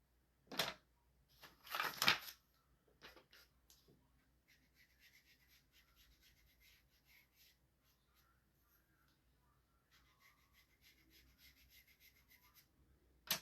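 Sandpaper rubbing over a painted wooden spindle stocking to distress it, heard as two loud scraping bursts near the start, then quieter, softer rubbing strokes continuing close by with no talk.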